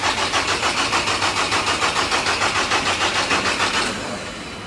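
A Carbon Zapp GD1R test bench pumps up pressure for a leak test on a GDI petrol injector, giving a fast, regular, mechanical pulsing drone that is loud and close, then drops to a quieter steady hum near the end.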